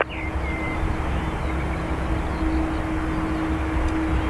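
An Airbus A330 jet taking off from Dublin Airport's north runway, a steady broad engine roar with a low tonal hum held throughout, moderately loud at a distance, no voices.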